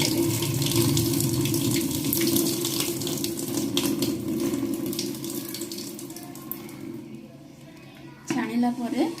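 Tap water runs steadily into a sink as leaves are rinsed under it, with someone talking over the splashing and a brief clatter near the end.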